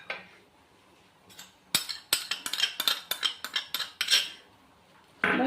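A spoon stirs cucumber, mint, coriander and curd raita in a bowl, rapid close clinks and scrapes of metal on the bowl in an uneven burst after a quiet start.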